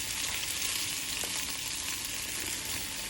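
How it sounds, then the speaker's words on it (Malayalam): Tofu pieces fry in a pan for a sesame garlic dish, giving a steady, close, even sizzle with no break and no voices. "ഗോൾഡൻ ക്രിസ്പ് ആവുന്ന വരെ നമുക്ക് ഫ്രൈ ചെയ്തെടുക്കാം"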